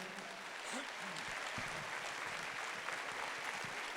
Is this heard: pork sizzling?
no